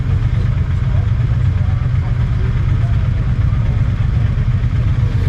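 A Norton Commando motorcycle engine, just serviced, runs steadily after the ignition and petrol are switched on, a loud, close, continuous low rumble with mechanical clatter that holds even for the whole stretch.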